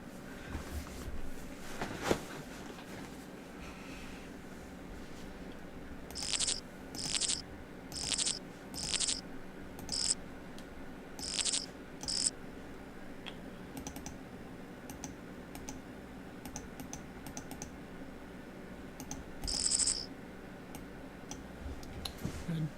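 Insect and cricket chirps from a Windows 95 theme sound in a regular series of short bright trills, repeating about once a second before thinning out, over a quiet low background.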